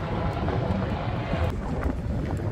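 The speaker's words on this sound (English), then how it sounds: "We got a helicopter flying in the background, police helicopter circulating." A police helicopter circles overhead above New Jersey near the Manhattan skyline on a summer day, giving a steady, distant broadband rumble mixed with wind noise that never lets up.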